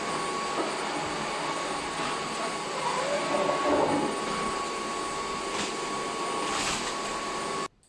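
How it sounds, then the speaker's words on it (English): A D100 robot wet-and-dry vacuum cleaner running in dry mode across a floor gives a steady, loud motor whine and airflow hiss with a faint tonal hum, continuous for about eight seconds before cutting off abruptly. "the dry mode of this vacuum cleaner was used and it performed quite well"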